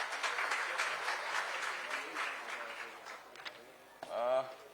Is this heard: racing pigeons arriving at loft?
no